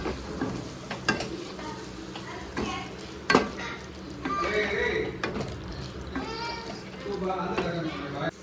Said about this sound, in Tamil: சேர்த்து அதையும் நல்லா மிக்ஸ் பண்ணிக்கலாம்